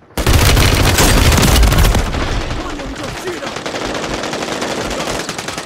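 Rapid automatic gunfire in a Call of Duty match, a loud, dense burst of shots that eases into a steadier, slightly quieter stream of firing, with no talk.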